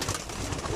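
A brief burst of pigeon cooing, low and throaty, against a steady noisy background at a cattle farm.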